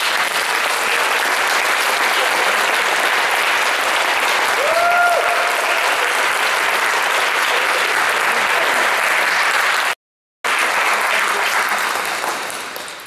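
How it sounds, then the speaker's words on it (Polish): A theatre audience applauds continuously after a discussion with a theatre company, dense and sustained for many seconds before fading at the end. "Pan prezydent też klaska."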